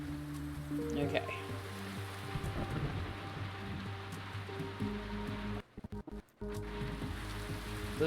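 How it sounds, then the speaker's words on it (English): Raging storm in the video game Diluvian Winds, with steady heavy rain and low rumbling thunder over a droning game soundtrack, briefly cutting out near the end. "The storm rages."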